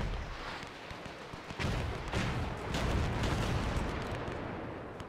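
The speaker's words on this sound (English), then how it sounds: "That's probably my artillery instead." Artillery fire in a WW1 strategy video game: a steady dense rumble of distant booms and heavy thuds, with a louder burst about one and a half seconds in and continuing rolling gunfire after.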